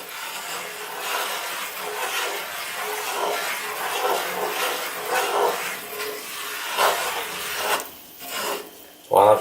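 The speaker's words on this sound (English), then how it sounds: "While I've got this going on the stove and I'm stirring it, incorporating the flour and oil together" A spoon rubs and scrapes steadily through a thick flour and oil mixture in a pot on the stove, close repeated rasping strokes with a brief clink at the end.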